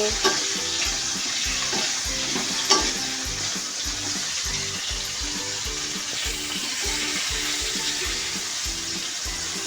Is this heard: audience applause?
no